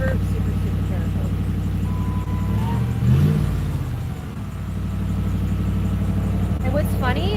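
A car engine running rough, idling unevenly with a low throbbing rumble and a slight rise in revs partway through, while someone talks over it.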